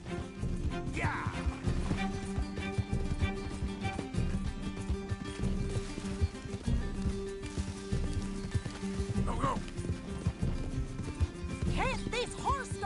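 A horse gallops in the Red Dead Redemption 2 video game, its rapid, rhythmic hoofbeats continuous throughout amid game action and clattering, with voices talking over it.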